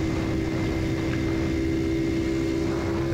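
Honda CT70 minibike fitted with a big bore kit engine climbing a hill, a steady droning motor hum with a strong sustained tone and rushing wind, loud and close without talk.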